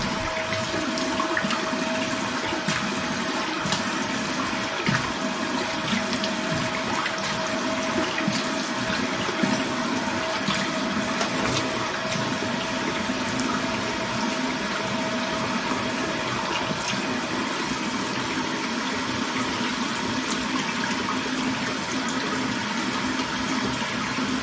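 Water runs steadily from a tap while someone rinses off after a wet shave, a continuous close splashing hiss with no talk.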